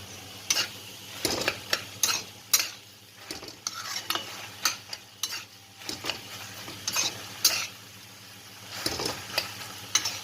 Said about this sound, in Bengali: একটু চিনি আর ভালো করে নাড়াচাড়া করবো আর একটু ফ্লেমটা বাড়িয়ে দিলাম